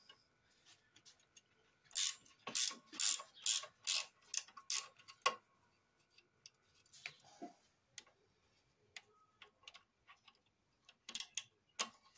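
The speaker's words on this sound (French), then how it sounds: "la fourche, j'enlève juste l'écrou de derrière" Wrench being worked on the rear nut of a velomobile wheel fork, giving a burst of quick rhythmic ratcheting clicks followed by sparser, fainter ticks in a quiet space.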